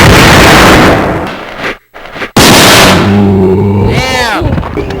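Gunshots fired at a zombie in Resident Evil 2, loud booming blasts with a brief near-silent gap between them, followed by a bellowing, groaning creature cry, close and powerful.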